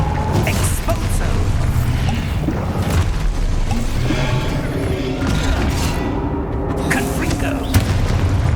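Expulso spell blasts in Hogwarts Legacy: heavy, booming explosions with rumbling debris and mechanical clatter fill a dense, loud soundscape, with a voice present among the chaotic combat effects.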